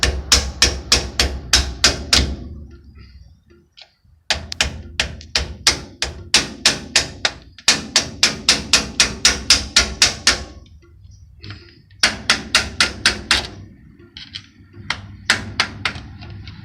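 A hammer repeatedly taps a screwdriver during rear wheel bearing work on the Dana 60 full-floating axle of a Ford E350. Rapid bursts of sharp, close metallic taps come in several runs with short pauses, and no one speaks.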